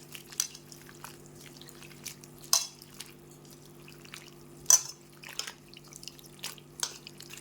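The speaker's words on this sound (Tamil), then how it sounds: "ஃபஸ்ட்டு காளானை தண்ணியில் போட்டுட்டு தேவையான அளவு மஞ்சத்தூள் போட்டு நல்லா கழுவி எடுத்துக்கலாம்." Oyster mushrooms being washed in a bowl of turmeric water give off soft splashes and scattered drips over a faint steady hum, with a few louder sloshes spaced irregularly.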